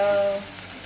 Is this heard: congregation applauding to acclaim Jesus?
no